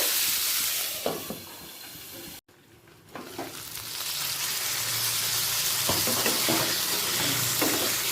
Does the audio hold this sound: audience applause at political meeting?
no